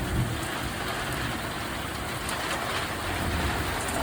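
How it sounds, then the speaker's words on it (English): Steady rain falls in Wonder Valley, California, a continuous even hiss of drops with a low rumble underneath, fairly soft and unbroken throughout. "Rain dripping off the brim of my hat."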